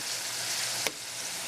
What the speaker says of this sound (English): Cooking, chopping, and stirring for about 5 minutes or until cooked,